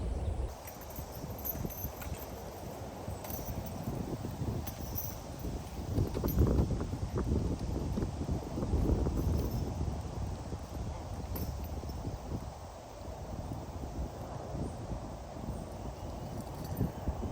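Mules' hooves clopping on the ground as the team is hooked up to a stretcher beside a log wagon, an irregular, fairly close, soft clip-clop with rustling and no talk.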